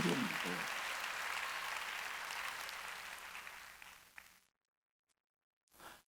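Church congregation clapping during a Wednesday worship service, a dense roar of applause that fades out, then silence before a brief burst of sound.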